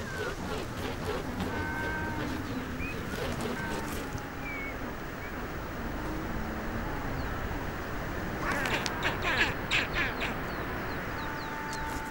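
Skuas calling over a penguin colony, harsh and repeated cries from several birds, mixed with the dense murmur of the colony and wind noise, some calls near and others farther off.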